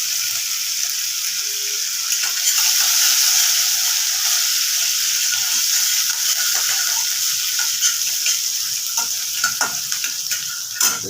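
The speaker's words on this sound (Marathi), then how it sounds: "असं सगळं चांगलं परतवून घ्यायचं तेलावरती" Curry leaves, green chillies and dal sizzling in hot oil in a pan, a steady close hiss throughout with occasional scraping stirs and small crackles, no talking.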